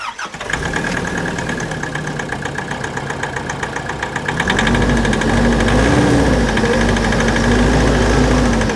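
A cold truck engine cranks and catches, then settles into a loud, close, rough idle with a rapid knocking clatter, rising in revs partway through and running steadily with no voices.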